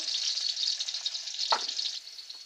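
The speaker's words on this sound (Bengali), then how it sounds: "পেঁয়াজ আর রসুন আমি একসঙ্গে দিয়ে দিয়েছি" Onion and garlic fry together in hot oil for a luchi breakfast, giving a steady, close, bright sizzle throughout, with one brief clatter of stirring partway through.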